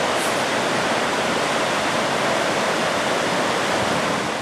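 The flooding Krishna river rushes steadily, a loud continuous roar of churning water with no break, close and unvarying throughout.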